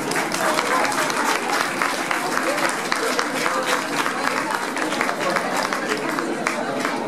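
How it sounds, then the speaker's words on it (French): Steady audience applause at an anniversary celebration for a magazine in Beaune, a dense continuous wash of many hands clapping that holds evenly loud throughout with faint crowd noise beneath. "Je vous demande de les applaudir, comme je vous demande de vous applaudir aussi"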